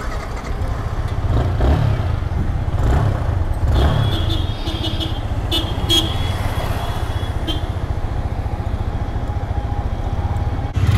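A motorcycle heads out on a test ride at Peeragarhi, its engine running steadily close by amid road traffic, with a couple of short horn toots and no talk.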